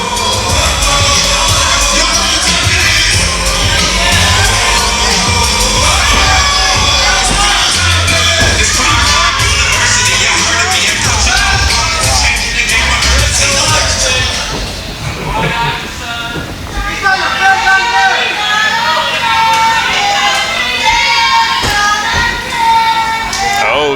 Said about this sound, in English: Some chants from the crowd.